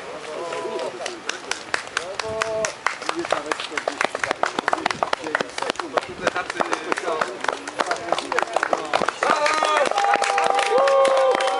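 Dense, steady clapping from a crowd cheering runners at the Międzyrzeckie Bieganie street race, continuing for the whole stretch under an announcer's voice, with a few louder tonal calls near the end.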